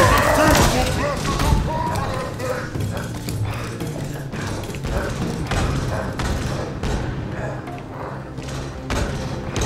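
Enemy weapons fire nonstop in a Halo Infinite firefight on Legendary difficulty, with dense overlapping shots, thuds and explosions that stay loud and close for the whole stretch.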